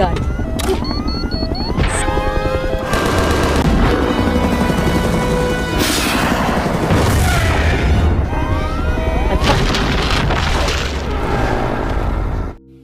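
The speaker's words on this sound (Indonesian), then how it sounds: "Eva terus menggempur si kadal dengan berbagai macam senjata" Film battle scene with weapons firing at a giant lizard, dense loud booms, crashes and impacts layered over swelling music and tonal effects, continuous and intense before cutting off abruptly near the end.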